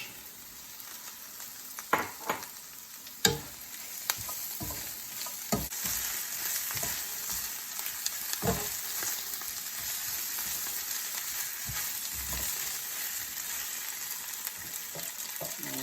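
Garlic and sun-dried tomatoes sautéing in a pan, a continuous sizzle broken by repeated spoon scrapes and taps at an irregular pace.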